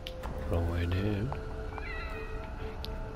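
A cat meows repeatedly in The Evil Within horror video game, rising and falling cries heard close over steady game ambience and background hum, with some voice in the mix.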